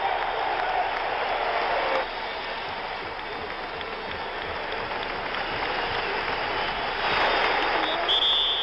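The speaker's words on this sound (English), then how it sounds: "the crowd rises to applaud Bill Walton, who waves back" Arena crowd at a 1977 NBA Finals basketball game applauding Bill Walton, a sustained broad roar of clapping and cheering that swells slightly near the end.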